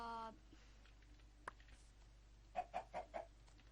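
Four quick, faint clucks from a Minecraft chicken come in a short rhythmic burst near the end, after a quiet stretch with a single click.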